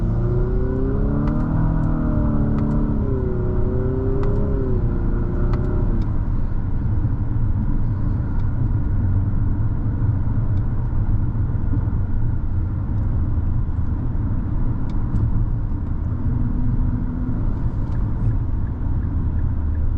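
A 2024 Infiniti QX55 Luxe drives along a road, its cabin filled with a steady low engine and road rumble and whirring tire noise, with a brief rise in engine tone early on.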